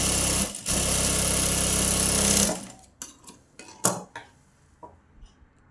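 A sewing machine stitching a double seam on a katori blouse whirs loudly and continuously, then stops abruptly, leaving scattered close clicks and taps of fabric handling.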